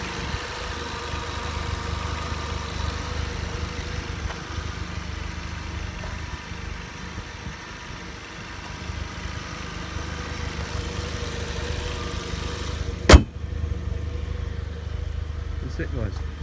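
An Audi TT Mk1 with the 1.8T 225bhp engine runs steadily nearby, a continuous even idle hum with one sharp click near the end and no talk over it.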